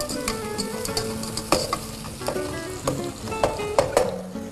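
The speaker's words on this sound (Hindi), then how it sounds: "प्याज को भी हम हिला दें ताकि वो जले।" Onions frying in a pan and stirred, constant close sizzle broken by repeated sharp scrapes and taps of the spoon on the metal.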